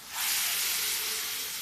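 Cooked dal poured into a hot pan of vegetables, setting off a loud, steady hiss of steam and sizzle that holds for over a second.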